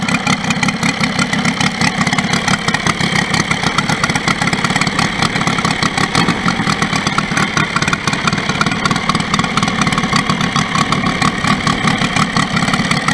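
A Saito FG90 R3 four-stroke glow engine on a TF Corsair model plane idles steadily up close, a loud, even, rapid chugging that holds constant throughout with no talk.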